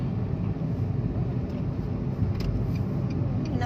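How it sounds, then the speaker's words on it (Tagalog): A fast car on a road rushing past, a steady broadband engine and tyre roar that stays strong and close for several seconds, with no talking. "ang bilis ng sasakyan"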